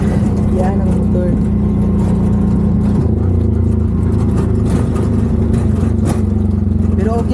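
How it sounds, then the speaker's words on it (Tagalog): Motorcycle engine running at a rural farm, a loud, steady mid-pitched drone that shifts pitch about midway, continuous throughout with no voices. "Yan ang motor."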